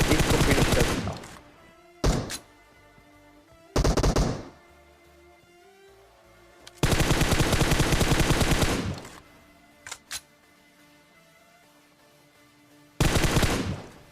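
Bursts of automatic gunfire in a mobile battle-royale shooter match, several loud sprays of a few seconds each separated by quieter gaps with faint single shots.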